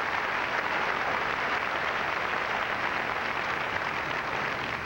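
An awards-show audience applauding a band at the 1985 MTV Music Awards, a dense, even roar of clapping sustained throughout with no talk over it.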